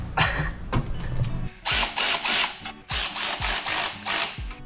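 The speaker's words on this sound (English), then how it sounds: "Now Joel is tightening the very loose studs" A ratchet tightens loose titanium exhaust manifold studs on an RB engine, giving rapid, close, loud clicking bursts repeated in short pulls with brief pauses between strokes.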